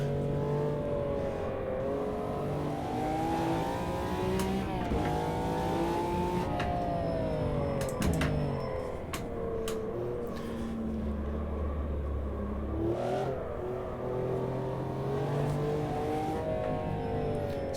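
A McLaren F1 LM with its V12 engine roars in the racing game Automobilista 2, loud and close, revs climbing and falling through gear changes with sharp clicks and thumps over curbs.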